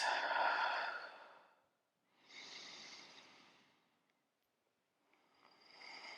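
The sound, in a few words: person breathing out slowly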